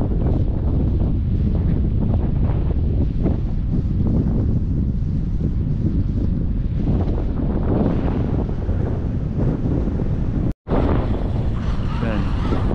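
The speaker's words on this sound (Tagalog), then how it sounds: "Mahangin, hindi masyado malata." Strong wind buffets the microphone on an open fishing boat in rainy weather, a continuous roaring rush lasting the whole time with a brief dropout near the end and voices faintly mixed in.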